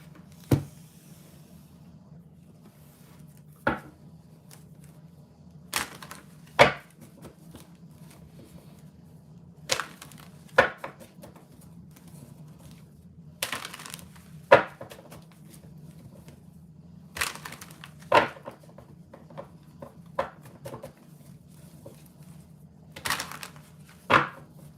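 Tarot cards are shuffled in scattered bursts of crisp riffling and slaps, about a dozen over a quiet background hum, with no talk.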